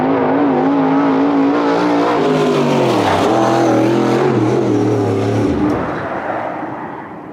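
Dirt late model race car with a 358 cubic inch steel block engine revs loud and close, pitch climbing and then dropping, before the sound cuts back and fades.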